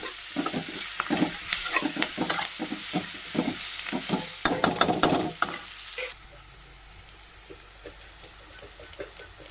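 Curry leaves frying in oil with half-cooked ingredients for mango rice, rapid crackling sizzle and frequent stirring scrapes for several seconds, then the sizzle softens to a quieter hiss.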